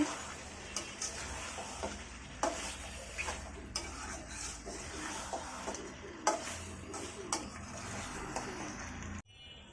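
Deshi chicken being sautéed kosha-style in a pan, with a soft sizzle under repeated scraping and stirring strokes of a spoon against the metal, quiet and close.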